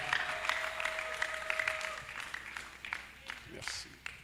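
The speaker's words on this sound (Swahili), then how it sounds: "tupige makofi juu ya entrée yake" A church congregation breaks into applause during a sermon, with a burst of moderately loud clapping from a small crowd and a voice speaking over it.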